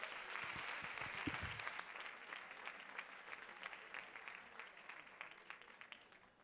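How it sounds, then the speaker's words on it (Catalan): An audience applauds at a charity dance show, a fairly faint, continuous wash of clapping that stays steady and slowly thins toward the end. "Un aplaudiment per ells, sisplau"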